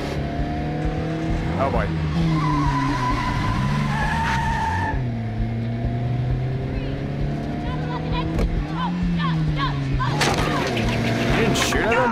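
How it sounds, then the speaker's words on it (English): Tyres screech as a car drifts and skids in the video game Quantum Break, sliding against a loud engine roar and game noise, while someone speaks briefly over it. "Nice drift."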